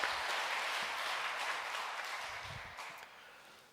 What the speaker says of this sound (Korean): 우리 박수로 하나님께 영광 돌리겠습니다.